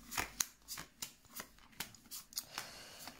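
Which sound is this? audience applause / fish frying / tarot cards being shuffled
tarot cards being shuffled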